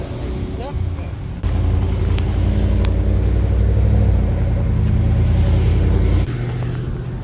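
Car engine rumbling steadily from inside the moving vehicle, a loud low drone that surges as it accelerates, with brief voices and laughter over it.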